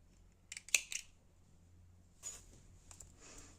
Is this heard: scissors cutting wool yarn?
yes